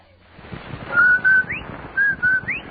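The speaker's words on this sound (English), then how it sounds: "That whistle. That's the Rinso White whistle." A two-note Rinso White whistle from an old CBS radio advertisement sounds twice: a steady pair of tones, each pair ending in a quick upward slide, loud and clear over a faint hiss.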